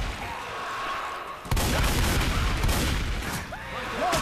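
Gunfire in the zombie shooter Left 4 Dead 2 erupts in a loud, dense burst of rapid shots about a third of the way in and keeps rattling steadily to the end, over a quieter game-ambience opening.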